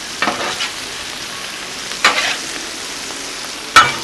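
Steak and shrimp stir-fry sizzles on a Blackstone griddle at a hibachi-style camp cook, with a constant loud hiss and three sharp spatula scrapes spaced a couple of seconds apart. No speech.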